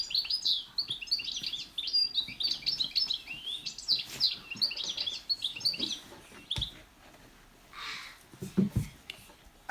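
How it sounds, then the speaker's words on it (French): A songbird sings a varied, rapid series of different notes and trills, fairly close, with a few thumps and handling noises later on. "Il a ce qu'on appelle une phrase musicale très variée"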